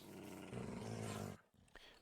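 Dogs growl low and continuously in a medieval world-building video game, a rumbling snarl lasting over a second before cutting off, followed by a brief faint yip.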